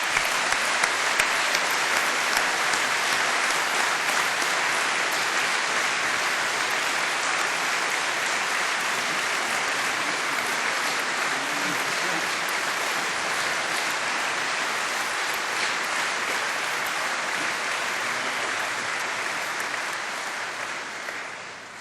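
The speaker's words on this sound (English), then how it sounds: "giving them all a big round of applause" A large graduation ceremony audience at Cardiff University in 2004 applauds in one long, even, hissing wave of clapping, sustained for about twenty seconds before tapering off.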